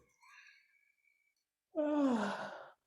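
A single long, breathy yawn with a voiced, falling tone lasts about a second and is heard close up and alone, after a short stretch of faint, quiet breath-like noise.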